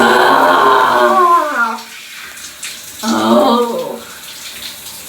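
Shower water running on a hiker after days on the Continental Divide Trail, a bright rushing splash that cuts out briefly then resumes, close and loud.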